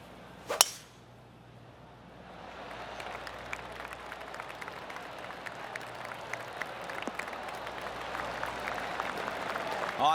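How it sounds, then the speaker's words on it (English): Golf crowd applause in the PGA TOUR 2K25 video game: a sharp club strike, then a spreading patter of many hands clapping that swells and continues steadily from somewhere across the course. "I can hear the golf claps around the course."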